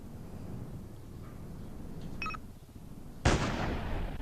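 A single sharp sniper rifle shot from a video game cracks out loudly near the end and trails off in a wash of echo, following a quiet stretch with a faint mechanical click.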